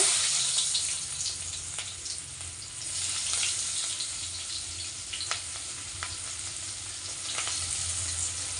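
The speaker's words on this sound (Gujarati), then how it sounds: "હિંગ, અને ડુંગળી નાખી દઈશું થોડીક." Asafoetida and onion fry in hot oil with a steady close sizzle, broken by occasional stirring scrapes and pops.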